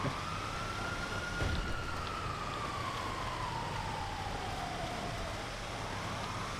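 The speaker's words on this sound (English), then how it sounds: "Wow, the sirens outside as well." An emergency vehicle siren wails faintly in the distance outside a window on a snowy night, a single slow rising and falling tone over steady broadband hiss.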